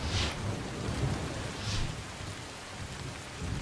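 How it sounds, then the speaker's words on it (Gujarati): Heavy monsoon rain pours in Sagbara taluka, Narmada, Gujarat, a steady wash of drops with low thunder rumbling repeatedly in the background. "નર્મદાના સાગબારા તાલુકામાં ભારે વરસાદ."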